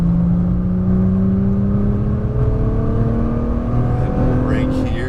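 A Nissan GT-R on a racetrack accelerates with a loud, steady engine roar and the pitch climbing throughout, heard from inside the car while an instructor talks over it.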